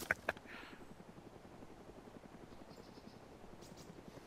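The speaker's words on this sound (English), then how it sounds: "Chopper to the left." A Huey helicopter in DayZ drones with a steady, rapid rotor chop throughout, moderately distant and low in level, with a couple of brief sharp clicks at the start.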